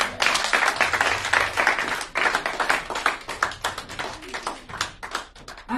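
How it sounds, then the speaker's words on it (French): Loud applause from a church congregation during a sermon on marriage, dense overlapping claps with sharp individual hand strikes throughout, rising and dipping briefly around the middle before surging again. "Est-ce qu'on peut applaudir très fort?"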